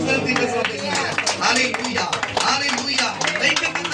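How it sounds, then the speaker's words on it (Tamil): Congregation clapping in a church service, a dense steady patter of many hands filling the room, with a voice speaking over it throughout. "என்ன ஒரு விசுவாச கைத்தட்டு உங்களுக்கு"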